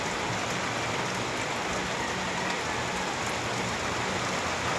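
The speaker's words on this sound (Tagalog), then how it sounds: "Napakalakas po ng ulan ngayon." Heavy, steady rain pouring down beside a road under construction where a landslide occurred, a dense continuous hiss with no voices.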